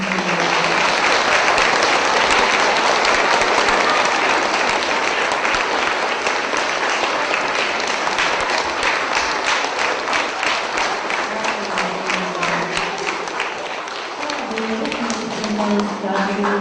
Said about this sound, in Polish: Brawa dla nich, naprawdę